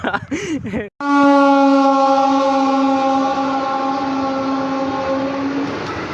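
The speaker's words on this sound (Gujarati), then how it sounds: "આપણી ટ્રેન આવી ગઈ છે" After a moment of chatter, a train's horn blares loud and sustained for several seconds at Gondal station, then fades as the train rolls in.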